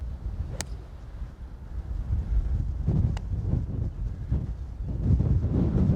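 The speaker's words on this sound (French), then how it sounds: "Le vent, c'est vraiment du délire." Strong wind buffets the microphone on a golf course with a continuous low rumble that swells and gusts, with no voices.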